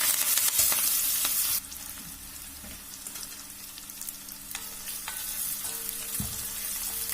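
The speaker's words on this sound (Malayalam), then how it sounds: "ഓയിൽ മാറ്റി അതിലേക്ക് ഞാൻ ഒരു 4-5 ചുവന്നുള്ളിയും ഒരു 2 തണ്ട് കറിവേപ്പിലയും കൂടി ഇട്ട് കൊടുക്കാണ്" Shallots and curry leaves frying in hot coconut oil, a close steady sizzle that drops in level early on, with occasional stirring clinks and no voices.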